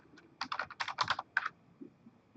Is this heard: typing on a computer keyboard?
yes